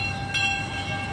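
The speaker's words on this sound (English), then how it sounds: "This is the Mean Streak update as the train is coming its way." Mean Streak roller coaster train at Cedar Point approaching on its track, a steady, loud rumbling roar with a faint high whine, continuous and alone, no voices.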